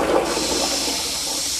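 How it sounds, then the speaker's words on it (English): A school bathroom toilet flushes with a loud, close, forceful rush of water that starts abruptly and stays steady to the end. "I'll give this one a flush, I guess."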